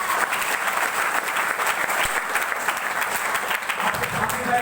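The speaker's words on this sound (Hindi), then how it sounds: "ताली होनी चाहिए इनको मां" Sustained, dense applause from a large seated audience at a motivational business event, steady and loud throughout with no pauses.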